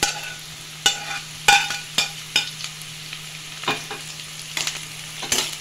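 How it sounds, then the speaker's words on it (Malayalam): Bitter gourd sautés in coconut oil with a low steady sizzle, while a spoon taps and scrapes the pan at irregular moments, close by and without voices. "ആദ്യം നമുക്ക് പാവയ്ക്ക ഒന്ന് വഴറ്റിയെടുക്കണം കേട്ടോ."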